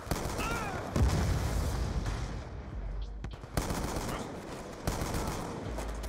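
Shotgun blasts ring out in a Call of Duty Black Ops 2 match on the Nuketown map, several loud, punchy shots spaced about a second apart amid ongoing game noise, with no voices.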